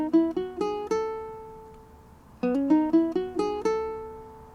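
Ukulele picks single notes and strums of a song in two short phrases of plucked, ringing notes separated by a decaying pause, close and clear with no voices.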